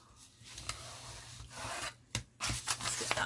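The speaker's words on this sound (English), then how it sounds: "I'm just going to burnish those edges." Folded paper pocket edges burnished by hand with a tool, soft scraping and rubbing strokes in short irregular passes, close and quiet, with no talking.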